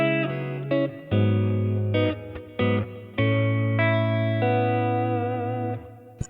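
Clean electric guitar played through a vintage Sears Silvertone amp profile on a Kemper, sustained chords and single notes changing every second or so, loud and close with light reverb, no voice.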